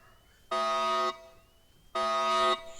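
Alarm sounding during a bank robbery in the Roblox game Brookhaven: two loud, steady buzzing tones, each about half a second long, separated by a short gap, heard alone with no speech.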